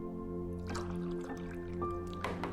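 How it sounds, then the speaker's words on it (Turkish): Water is poured from a carafe into a glass, giving a short, quiet run of splashing and trickling that builds as the glass fills. "Bardağa su döküyorum."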